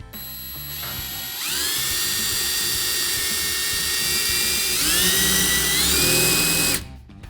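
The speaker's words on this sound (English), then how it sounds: "All right, first hole is drilled." A power drill bores a hole through the panel of a mini claw machine, a loud continuous whine that rises in pitch as the motor spins up, holds steady for several seconds, climbs again, then cuts off abruptly.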